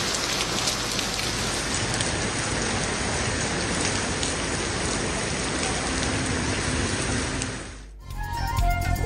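Heavy monsoon rain pours steadily in Punjab, a dense, loud hiss of drops on surfaces that holds unbroken for several seconds before cutting off abruptly.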